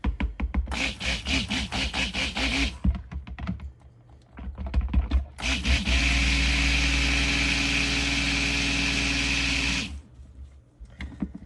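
Stick blender whirring through cold process soap batter scented with fragrance oil, for a pink hibiscus Himalayan salt soap; short bursts at first, then one long steady buzzing run, close and alone.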